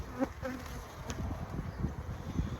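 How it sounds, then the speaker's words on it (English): Bees fly around an opened hive during an inspection, a faint, close buzzing that drifts in and out as individual insects pass, over a low background rumble. "you can tell the bees were still flying away from me or from that hive over there"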